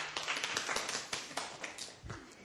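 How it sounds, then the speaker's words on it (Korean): An audience at a lecture claps together in a steady, dense patter of many hands that fills the whole moment at moderate loudness, with no voices over it. "박수 한번 쳐줄까요?"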